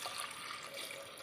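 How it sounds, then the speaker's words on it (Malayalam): Water pours steadily into a cooking pot for sambar made with lentils and salt, a continuous soft splashing rush heard up close with no talking. "ഇതിന് നമ്മൾ വെള്ളം ഒഴിച്ച് കൊടുക്കുകയാണ്."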